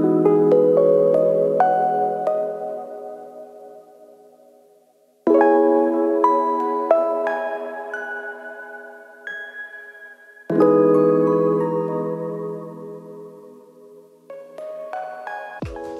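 Lo-fi hip hop keys play soft block chords with a simple lead line laid over them, in three sustained phrases that swell and fade. The playing is quiet and close, with no voices.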